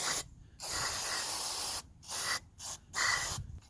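Cleaner sprayed onto a car's mass air flow sensor: several close hissing aerosol bursts, one long spray and shorter ones, separated by brief silences.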